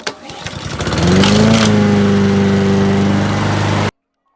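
A pull cord rattles, then a small lawn mower engine catches and settles into a loud, steady drone before cutting off abruptly.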